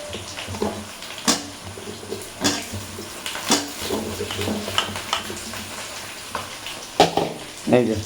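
Potatoes fry in oil in a pan with a bubbling sizzle, broken by sharp clatters and stirring knocks at irregular intervals and faint background voices.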